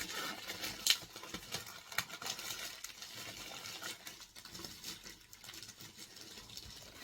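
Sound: rain falling

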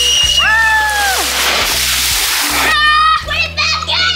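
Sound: water splashing

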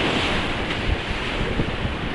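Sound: sea waves breaking at beach reef, Sharm el Sheikh

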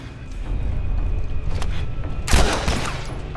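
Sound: gunfire in video game The Last of Us

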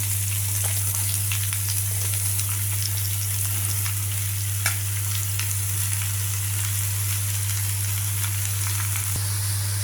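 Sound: ridge gourd pieces sizzling in tempering

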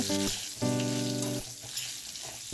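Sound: potatoes frying in mustard oil with salt and turmeric

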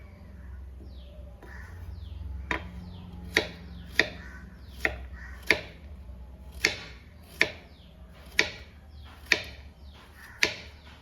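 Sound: chopping pumpkin pieces for Kerala curry

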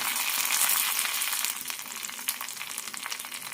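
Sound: grated coconut frying in oil

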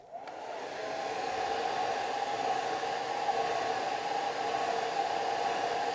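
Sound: hair dryer drying a watercolor painting

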